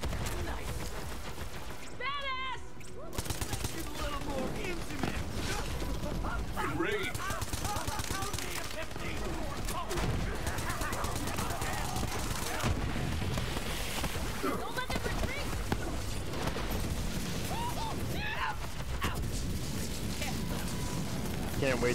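Dense, continuous gunfire and explosions from the video game Borderlands 3 fill a co-op match, with bursts of automatic fire throughout, while players talk over the action.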